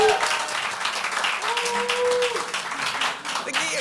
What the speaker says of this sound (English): Can you give her a round of applause for me?